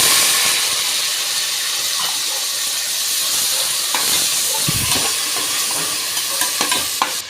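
Onions frying in hot oil with cinnamon, cloves, cardamom and green chillies for mutton biryani give a steady, loud, broadband sizzle, with occasional stirring scrapes and clatters toward the end.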